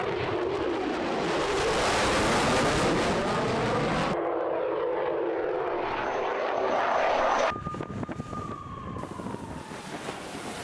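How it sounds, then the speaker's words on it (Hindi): A J-15 fighter jet on the Shandong warship roars steadily with a loud, broad engine rush that shifts in pitch and cuts abruptly between segments, no voices. "PLA के शेडोंग वॉरशिप पर एक्शन में J-15 फाइटर जेट।"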